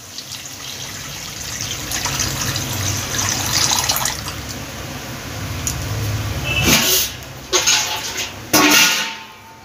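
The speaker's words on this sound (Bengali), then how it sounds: "মশলাটা কষানো হয়ে গেছে, এবার জল দিয়ে দেব।" Water is poured from a vessel into fried, stone-ground mustard spice paste for a pabda fish curry: a steady close pour, then a few sharp splashes and clanks near the end.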